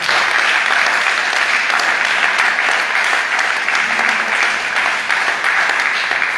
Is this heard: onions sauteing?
no